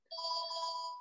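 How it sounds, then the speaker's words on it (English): A phone rings with a steady electronic ringtone, a sustained bright tone heard alone and clearly for about a second. "Oh, my phone's ringing."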